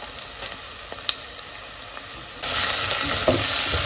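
Spices for a chicken curry with chilli powder and chicken masala frying in a pan while being stirred, a close steady sizzle with scraping that swells sharply louder partway through, no talking.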